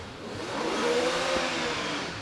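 A 4-litre V8 hillclimb race car accelerates past at the British Hillclimb Championship at Doune, a steady broadband engine roar swelling slightly mid-clip and holding, fairly distant, with no talk over it.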